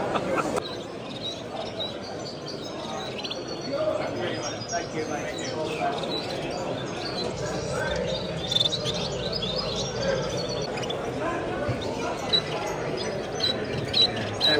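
Many caged birds, parrots and finches, chirp and tweet together at an indoor bird show, a busy continuous chatter of calls with voices murmuring underneath.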